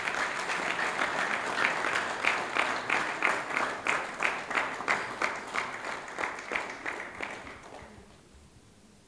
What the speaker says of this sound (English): May I please ask you to give them a round of applause.